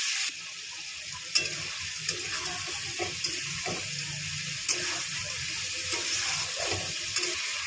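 Spice paste goes into potatoes and cauliflower frying together in oil, giving a steady hissing sizzle with occasional soft clinks and scrapes of a utensil in the pan.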